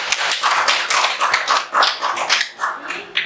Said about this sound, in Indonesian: berikan aplaus untuk